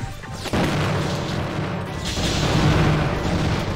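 Weapon fire in the 2004 video game Custom Robo: a sudden heavy booming blast followed by a continuous loud rumbling roar of explosions and mechanical effects, without speech.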